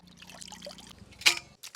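Water splashes and trickles briefly while mutton is washed, with a louder close pour near the end, fairly quiet overall and with no talking.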